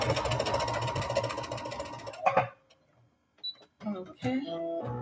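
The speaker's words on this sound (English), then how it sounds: "finish closing the elastic opening, roll back stitch" A domestic sewing machine back-stitching to close an elastic opening: a steady, fast mechanical chatter for about two seconds, then it stops. Brief clicks and handling noises follow in the quiet.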